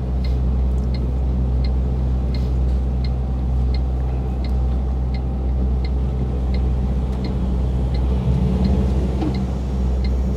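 A truck engine drones steadily as the vehicle drives and accelerates on the road from Paris toward Normandy, a loud continuous low rumble inside the cab with a faint rhythmic ticking over it.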